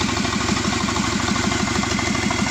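A Subaru Forester SG9 with an EJ255 turbo engine, missing some bolts, idles steadily and loudly up close with a low, even rhythmic pulse.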